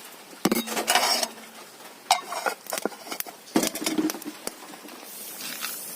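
Metal pot and lid clatter and clink in several sharp bursts, with lighter scraping and rattling between them, close by and without speech.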